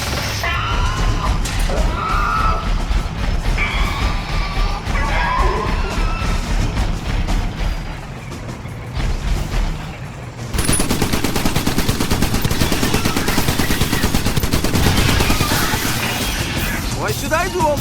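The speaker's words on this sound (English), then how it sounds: "Let's try a shotgun there." Rapid bursts of shotgun fire and explosions in the video game Iron Brigade, a dense, loud barrage of blasts and crashing impacts that keeps on and grows denser in the second half.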